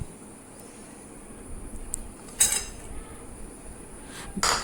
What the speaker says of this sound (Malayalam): അതിന് ശേഷം നമുക്ക് പച്ചമുളകും വെളുത്തുള്ളി, കറിവേപ്പിലയും കൂടി ഇട്ടിട്ട് നന്നായിട്ട് മിക്സ് ചെയ്യാം.